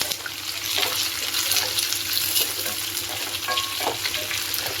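Three green chilies sauté in a pan for apple chutney, giving a steady close sizzle with occasional stirring scrapes and faint watery clatter, with no talking.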